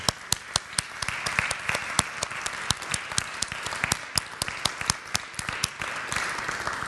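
A church congregation applauds during a Sunday service, many hands clapping in a dense, lively burst with some sharp, loud individual claps standing out above the mass.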